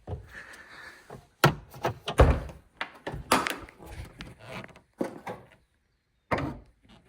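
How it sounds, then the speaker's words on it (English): Hood of a 2006 Dodge Durango being released and lifted, with a series of close, sharp metallic clunks and latch knocks separated by short pauses, then a final thump after a brief silence. "So the first thing we need to do is pop our hood."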